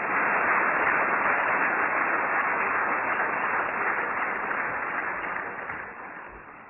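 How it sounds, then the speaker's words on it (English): An audience applauds the new ICC Hall of Fame inductees at a 2012 cricket awards ceremony, a steady wash of clapping that holds strong and then gradually fades toward the end. "Another round of applause, please."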